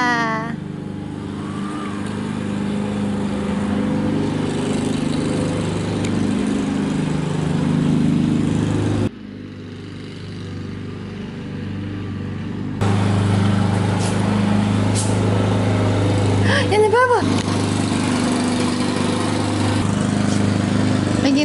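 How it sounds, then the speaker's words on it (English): A lawn mower drones steadily nearby for the whole stretch, briefly dropping in level before returning, with a faint voice now and then. "Oh, you start mowing the lawn right now."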